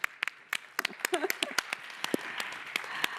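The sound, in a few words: audience applause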